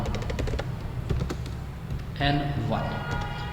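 Fingers tap out C++ code on a computer keyboard in quick, uneven clicks at close range, running under a man's steady speech.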